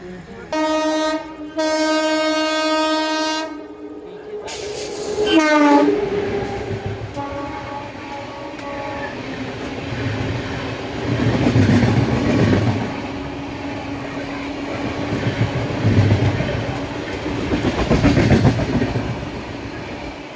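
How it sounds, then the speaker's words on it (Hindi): An Indian express train, the Gomti Express, rolls past with a long horn blast and then a steady rumble and rhythmic clatter of wheels over rail joints, loud and close throughout. "चलिए अब दिखाते हैं आपको गोमती एक्सप्रेस का शानदार स्किप"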